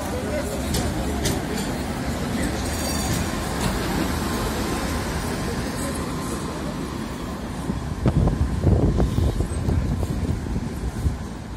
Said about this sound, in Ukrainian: Трамвай їде, подивимось на трамвай.